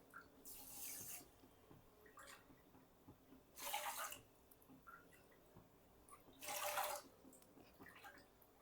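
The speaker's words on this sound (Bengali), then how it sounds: "এবার আমি এতে জল দিয়ে দেব ওই কাপেরই মাপে চার কাপ জল আমি দিয়ে দেবো" Water is poured into a pot of sugar, four cups measured out for rasgulla syrup, coming as three separate splashing pours with quiet pauses between.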